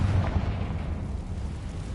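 A Confringo fire spell blasts in Hogwarts Legacy as a deep booming burst that rolls into a low rumbling decay lasting about two seconds.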